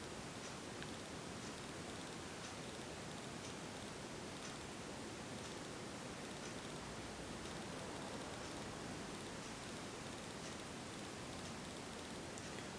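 A 52-inch SMC ceiling fan runs at low or medium speed, giving a steady, even broadband whoosh of moving air with a faint, constant motor hum beneath it and no voices.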